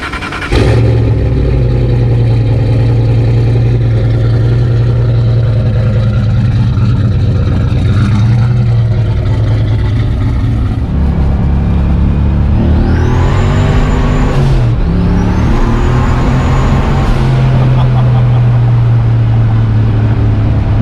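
A 363 cubic inch turbocharged Fox-body car on a ride-along, engine droning steadily under cabin noise, then revving hard through gears with a rising turbo whistle and shifts, loud and close from inside.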